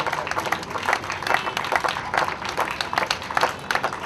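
An audience claps steadily at an annual programme's yoga session, a dense continuous patter of many hands at moderate distance with no pauses.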